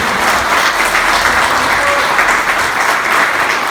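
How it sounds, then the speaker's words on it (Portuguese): Applause from a church congregation praising Jesus during a service, a dense, steady wash of many hands clapping throughout, loud and close with no talk over it. "Aplauda o Senhor Jesus."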